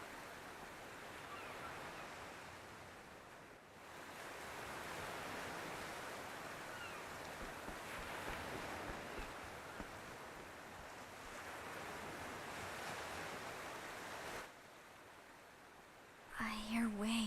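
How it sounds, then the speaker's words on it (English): Steady ocean surf washes continuously in the video game Octopath Traveler 2, a soft broadband roar with gentle swells. It dips briefly before ending in a short tonal game sound. "I hear waves."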